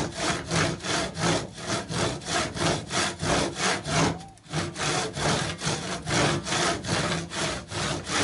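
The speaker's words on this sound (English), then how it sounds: "Now we just start our gentle cut again." Hand saw cutting through a piece of timber in steady, even push-pull strokes, loud and close, with a brief hesitation partway through before the rhythm resumes.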